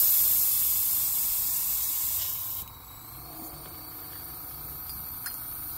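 An airbrush spraying water during cleaning gives a steady, close hiss that cuts off abruptly partway through, followed by quieter room noise and a few faint clicks.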